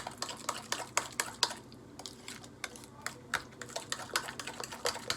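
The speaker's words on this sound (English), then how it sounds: "And then you're just gonna give this a nice stir." A spoon stirs cheeseburger casserole ingredients seasoned with smoked paprika, making quick, irregular clicks and light scrapes against the dish, close and fairly faint.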